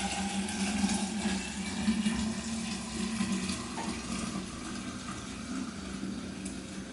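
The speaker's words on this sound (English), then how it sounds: "I'm going to pour most of the milk into the flask." Milk pours from a container into a flask over a kitchen sink, a steady liquid stream with a gurgling fill tone that continues for several seconds at close range.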